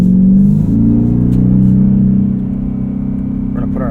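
A 2024 Ford F-150 Raptor R with its exhaust set to quiet mode hums with a steady, loud, low harmonic drone heard from inside the cab, easing to a slightly softer level partway through and holding there.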